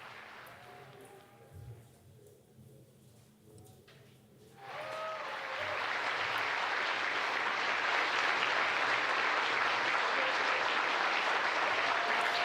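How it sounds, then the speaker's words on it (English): Mission Control staff applaud after the Artemis II crew returns to Earth; a few seconds of quiet room tone give way to loud, sustained clapping that continues steadily to the end. "That applause from Mission Control."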